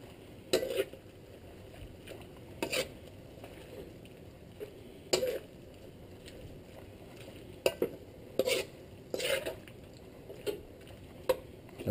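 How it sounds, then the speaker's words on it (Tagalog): Soy sauce is stirred into pancit canton in a pan, with quiet scattered clinks and scraping strokes of a utensil at irregular intervals over a low background hush. "Haluin po natin."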